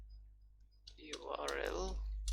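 A few sharp clicks on a computer keyboard come as someone types, scattered and brief, while a person talks over them at close range.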